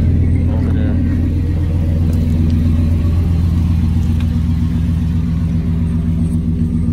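Toyota Tundra SR5 engine rumbling low and steady through a dual exhaust, loud and close for the whole stretch with no talk.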